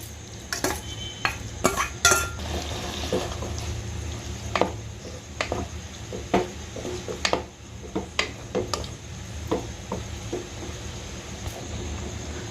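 Chana dal with its cooking water is stirred into spiced oil in a pan, with irregular spoon clinks and scrapes against the metal over a low, steady sizzle.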